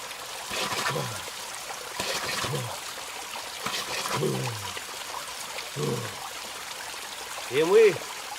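A small waterfall near the village of Ostrov in April gives off a steady, close trickling rush throughout, while voices speak over it at intervals.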